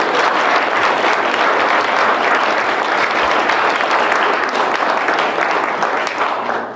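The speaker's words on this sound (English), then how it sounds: "Let's have one more round of applause." Sustained audience applause fills a school National Honor Society induction ceremony, loud and dense, holding steady throughout before easing slightly at the very end.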